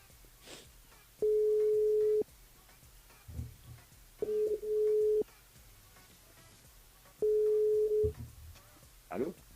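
Outgoing telephone call on a live radio broadcast, with three long, steady ringback tones separated by pauses, over quiet studio background and brief speech.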